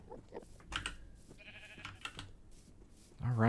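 Minecraft sheep bleating, a couple of short nasal baas over quiet game clicks and a faint voice, with a louder bleat at the end.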